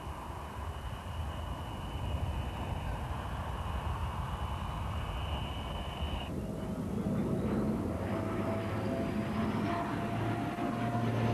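A propeller aircraft's engine drones steadily and loudly through an aerobatic display at the 1993 Biggin Hill Air Show, with the pitch shifting partway through as the plane manoeuvres overhead.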